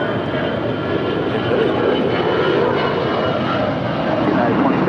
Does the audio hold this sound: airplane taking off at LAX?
yes